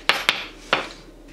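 A knife chops a single spring onion on a cutting board: three sharp, close knocks, two in quick succession and a third after a short pause, with quiet room tone between.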